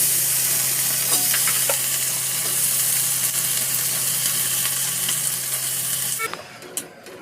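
Potatoes and peas with red chilli powder sauté in a hot pan, a steady loud sizzle with occasional stirring scrapes that cuts off abruptly near the end, leaving faint clatter.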